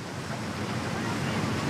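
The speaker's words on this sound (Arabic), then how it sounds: "يمدنا صوت البحر ببعض من طاقة المحيط الهائلة" A continuous broadband wash of ocean surf at Rio de Janeiro, Brazil, steady and moderately loud, with a wind-like hiss and no talking.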